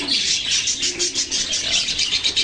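Pet parakeets at a pet market in Malabon keep up a dense, close chorus of high, rapid chirps and twitters in quick repeating bursts, with no voices over them.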